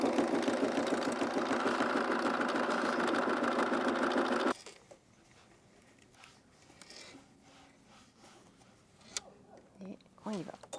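A sewing machine stitches an appliqué on a child's cap, running loud and steady with a rapid rhythmic whir for several seconds before stopping abruptly, followed by quieter handling noises and a voice speaking.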